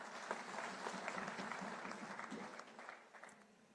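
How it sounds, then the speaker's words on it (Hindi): A crowd applauds at a public gathering, dense continuous clapping that swells and then gradually thins out toward the end. "एक बार उनके लिए जोरदार ताली आप बजाइए प्लीज"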